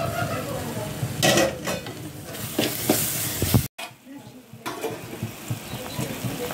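Masala sizzling in oil in a pan for a Tamil-style anchovy (nethili) curry with coconut, with scraping stirs and pot clatter, a brief drop-out midway, then steady frying resumes.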